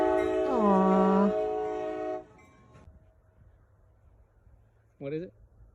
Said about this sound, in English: What is it? Train.